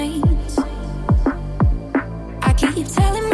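Jump up drum and bass track with a filtered drum break and a sung vocal, punchy kicks and snares hitting in a steady rolling pattern under a heavy bass, the mix opening up brighter after the filter lifts.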